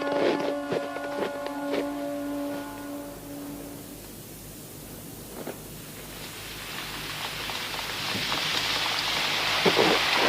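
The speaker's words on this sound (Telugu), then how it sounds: "వర్షం కురుస్తోంది." Rain falls in a Telugu-dubbed Heidi cartoon scene as a steady hiss that swells louder toward the end, with sustained tones sounding briefly at the start.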